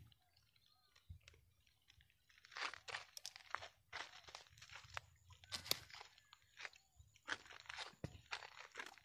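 Crunchy bites and chewing on a hard-boiled egg cooked over solid alcohol fuel, close to the mic, with irregular soft crunches and mouth sounds and no talking.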